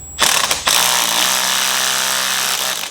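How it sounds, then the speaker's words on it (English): Ratcheting clicks from tightening an intake pipe clamp over an adapter on a BMW B58 engine, a steady close mechanical rasp that runs almost without pause after a brief start. "And tighten your clamp down."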